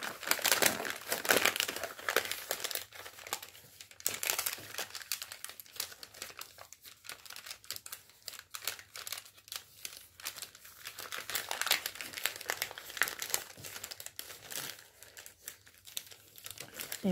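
Origami paper being unfolded and pressed flat while folding a dragon model, giving soft crinkles and rustles with faint crisp creasing taps, quiet and close, sometimes alongside low speech.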